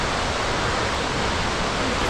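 Cheonjiyeon Waterfall in Seogwipo, Jeju, runs full, producing a steady, dense roar of rushing water heard close and unbroken.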